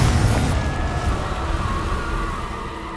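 A Confringo spell explosion in Hogwarts Legacy, a loud deep boom with a rumbling fiery tail that fades slowly over a few seconds, close and unaccompanied by speech.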